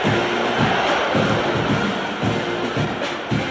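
A big stadium crowd at a college football playoff game between Clemson and Texas A&M roars steadily at kickoff, a loud continuous wash of cheering with rhythmic low swells throughout.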